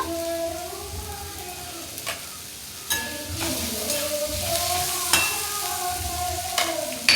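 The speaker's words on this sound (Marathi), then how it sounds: "परतून घ्यायचं व्यवस्थित" Aubergine and vegetables for brinjal bharit sauté in a pan, a soft continuous sizzle with occasional spatula scrapes and taps against the pan, close and moderate in level.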